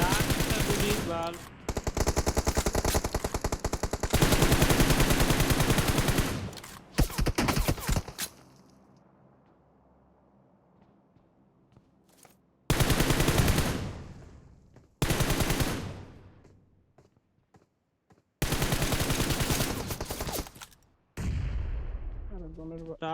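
Loud gunfire from a shooting video game, long bursts of rapid automatic fire broken by quiet gaps, with spoken voices under the action.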